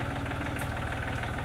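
A tractor engine idles steadily beside a chicken coop in a vegetable garden, a low, even rumble with a regular pulsing beat held for the whole moment, close and constant with no talk.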